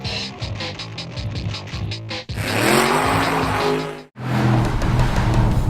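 Chevrolet Camaro SS V8 engine revving hard at close range: a rapid pulsing burble builds into a loud sustained roar with a rising tone, cuts off abruptly for an instant, then roars again at full volume, with a hint of tire squeal.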